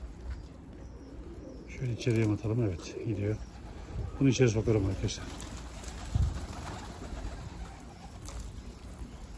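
Pigeons coo in repeated rolling phrases close by, in a loft or pigeon yard, with someone talking over and between the calls and faint handling noises in the background.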